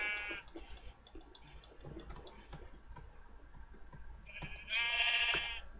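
Sheep in the Minecraft video game bleat in short, bright, wavering calls, one near the start and a louder one near the end, with soft keyboard-like clicking in between and no talk.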